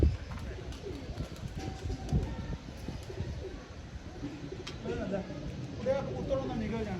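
Pigeons cooing close by in soft, repeated low calls beneath a voice speaking, with rustling and faint chirps scattered through.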